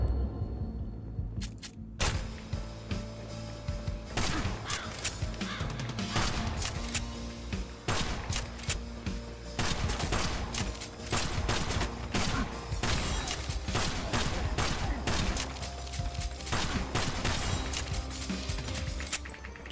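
Rapid gunfire from a crow-shooting video game, with dense shots and heavy thumps hammering almost nonstop for about twenty seconds at a steady loud level.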